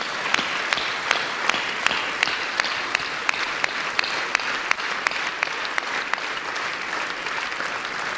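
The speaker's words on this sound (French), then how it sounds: "un hommage très fort, appuyé par une salle d'applaudissements" Sustained applause from a hall audience at a New Year greetings ceremony, with a steady wash of clapping and a regular sharp clap standing out close by, no talk over it.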